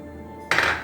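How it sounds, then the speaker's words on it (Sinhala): A metal pot lid clanks down onto a cooking pot of chicken and potato curry in a single short, bright clatter after a quiet lead-in. "මේ භාජනය වහලා මද වේලාවක් මම මේක තම්බ ගන්නවා"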